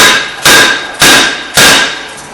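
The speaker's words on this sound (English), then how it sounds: "you can take a hammer and just tap on it and sometimes it'll pop off" Hammer striking a rear brake rotor on a 2008-2013 Toyota Highlander to knock it loose, four loud sharp metallic blows at an even pace, each ringing briefly before the next.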